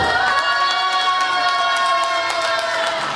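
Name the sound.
audience at book concert shouting and cheering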